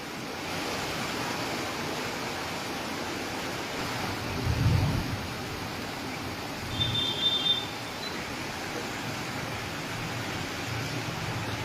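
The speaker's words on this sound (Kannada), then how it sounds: "ಅರ್ಧ ಗಂಟೆಗೂ ಹೆಚ್ಚು ಕಾಲ ಸುರಿದ ಜೋರು ಮಳೆಗೆ ವಾಹನ ಸವಾರರು ಪರದಾಡುವಂತಾಗಿದೆ." Heavy evening downpour over Bengaluru, a steady broadband hiss of rain lasting the whole stretch, with a couple of brief low rumbles that could be passing traffic; no voices.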